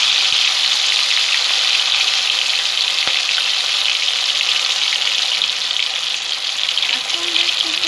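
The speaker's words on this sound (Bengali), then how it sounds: "মাছটা এবার আমি ভেজে নেব।" Marinated rohu fish fries in oil in a wok, giving a loud, dense, unbroken sizzle that stays even throughout, with one faint knock partway through.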